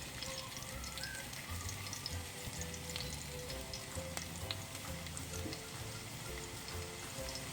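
Finely chopped garlic and small onion sizzle in about two tablespoons of hot coconut oil for Kerala-style beef curry, a steady, quiet, even crackle with no talking.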